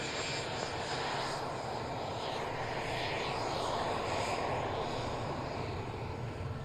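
Aircraft engine at an airfield, a loud continuous droning roar that holds steady throughout with no pauses, close and alone without talk.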